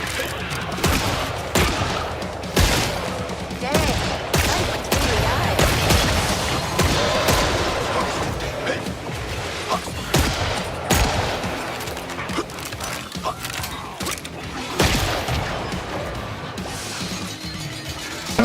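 Gunslinger guns in Killing Floor 3 fire rapid, heavy volleys in dense, nearly continuous bursts, mixed with impact crashes and booms and short pauses between strings of shots.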